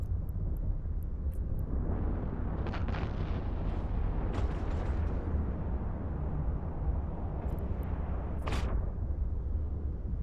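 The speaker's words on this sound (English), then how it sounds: "I should be shooting missiles." Missile fire aimed at a battleship-class ship in a space combat game: a continuous rumbling barrage of launches and impacts under a steady low roar, with a few sharper bursts near the end.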